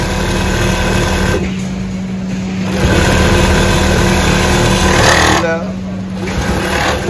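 A Consew CNBX-7NS cushion boxing sewing machine runs fast with a steady motor whine and rapid stitching chatter, close and loud, with a high-pitched squeal near the end.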